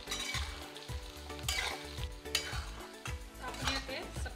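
Ground masala paste hits a pan of frying brinjal for a village-style spicy curry, with steady loud sizzling and repeated stirring strokes scraping the pan at a regular rhythm, close up and with no talk.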